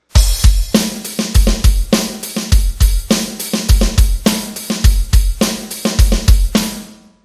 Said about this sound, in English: I play the same right, left on the hi-hat snare.